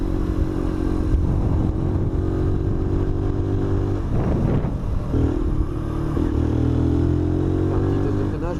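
Keeway RKV 125cc roadster motorcycle on the move, a steady close engine drone with shifting pitch and a brief dip as the rider changes gear, accompanied by wind rush.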